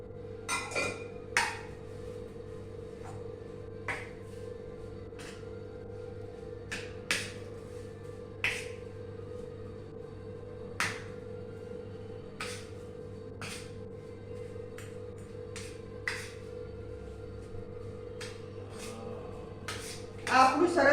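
Dudhi muthiya dough gets mixed with oil in a bowl, scattered clinks and knocks of utensil against metal over a steady low hum, with a voice speaking now and then.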